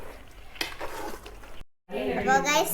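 Kappa biryani, a tapioca biryani, is stirred and mixed in a pan with short scraping strokes, heard close up. A voice talks over it, and there is a brief silent gap before the stirring resumes.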